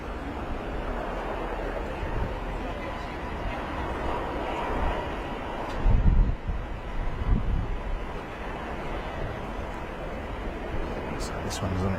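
Wind buffets a microphone at a viewpoint overlooking Bristol Airport, a steady loud rumbling roar that swells briefly midway, with faint distant noise underneath.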